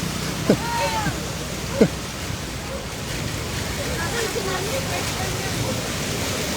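An overflowing river at Ambuklao, Brgy Ibayo, swollen by continuous rain, roars as a steady rush of water, with two brief sharp knocks early on and people talking faintly over it.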